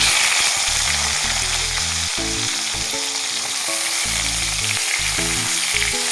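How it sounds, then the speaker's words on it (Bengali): Eggplant pieces fry in hot oil for a shukto, giving a loud, steady sizzle and crackle throughout, with no talking. "লাল লাল করে বেগুনগুলো ভেজে নেব"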